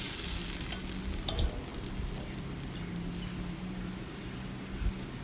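Soft, steady sizzling of roti jala batter frying on a hot regular wok, with faint crackles and a low background hum, no voices.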